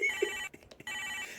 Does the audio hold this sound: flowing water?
no